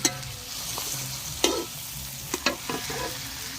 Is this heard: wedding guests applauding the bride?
no